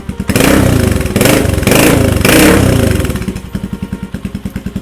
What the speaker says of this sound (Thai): มาฟังเสียงท่อกันเลย ตาร์ตติดทีเดียวรู้เรื่องนะครับผม